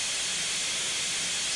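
A locomotive sander in the Train Simulator Classic game, on steam engine 119 or the Jupiter, gives a steady, even hiss of air and sand that runs unbroken through the whole short moment at moderate loudness.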